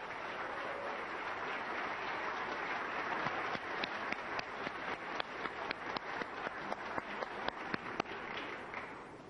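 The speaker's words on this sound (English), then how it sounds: "I want you to give Allen an enormous applause" Applause for Allen at a gathering in the US Congress, faint and distant at first, then a steady patter of claps building and growing sharper toward the end, with no talking.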